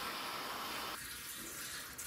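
Water runs steadily from a tap while a Pomeranian dog is bathed at home, a faint, continuous splashing rush whose tone shifts partway through as the flow changes.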